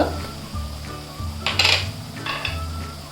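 Onion frying in oil with a pinch of asafoetida for a jackfruit bhaji, a close sizzle with repeated clinks and scrapes of a metal spoon against the pan.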